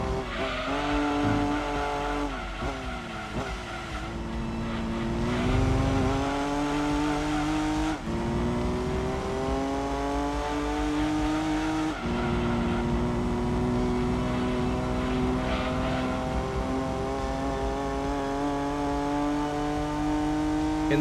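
A race car in Gran Turismo 2 drifts through corners with its engine roaring steadily and shifting pitch as it climbs and drops between gears, a continuous loud tone running under tire noise for the whole stretch.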